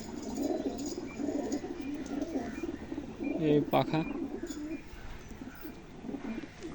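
Pigeons coo softly amid bird chatter while a person talks nearby, with a brief louder burst of wings or calls midway.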